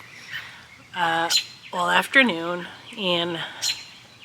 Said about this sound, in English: I'm in the front and you could hear the bird chirping.